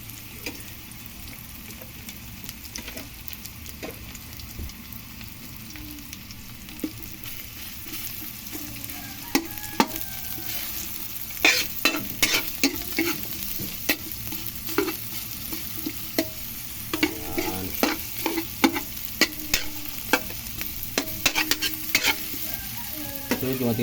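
Ginger and onions sautéing in a hot pan, sizzling steadily while a spoon stirs and scrapes in a run of quick, sharp clicks that grows busier and louder partway through, close up and without voices.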